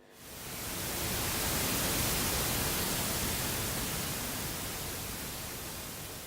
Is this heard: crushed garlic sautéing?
no